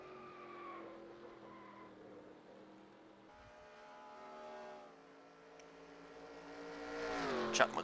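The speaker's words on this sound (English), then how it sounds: "Chuck McClure going to be bringing it around here to do some burnouts." Race car tires squealing through burnouts at Talladega in a racing video game, engine droning with rising pitch and a loud skidding burst near the end, under faint background commentary.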